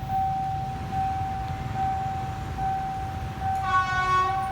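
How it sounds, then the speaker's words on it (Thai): Thai ordinary train no. 251 from Thonburi to Prachuap Khiri Khan approaching on a curve near Ban Pong, a steady diesel rumble with a sustained horn tone and a rising, brighter whine as it draws closer. "ครับขบวนที่ 251 นะครับ ก็ต้นทาง ทนบุรีนะครับ ไปทางประจวบคีรีขันธ์นะครับ"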